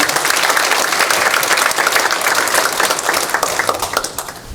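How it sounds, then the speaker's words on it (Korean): Loud, brisk audience applause at a church denomination's election candidate policy debate, many hands clapping together in a dense, even burst that stays strong throughout. "우리 세 분을 위해서 다시 한번 박수 한번 해주시겠습니다"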